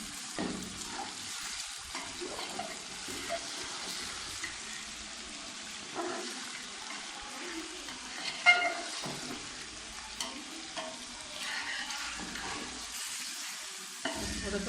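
Chicken pieces fry in a pan for Lahori biryani, giving a soft continuous sizzle broken by repeated spoon scrapes and clatters as the meat is stirred, with no talking.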